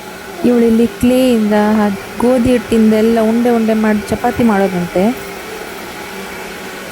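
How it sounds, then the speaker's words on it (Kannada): In a home kitchen, a mixer grinder whirs steadily in the background as it grinds masala. Someone talks over it in the foreground. "ಬ್ಯಾಕ್ ಗ್ರೌಂಡ್ ಅಲ್ಲಿ ಮಿಕ್ಸಿ ಸೌಂಡ್ ಕೇಳಿಸ್ತಾ ಇದೆ."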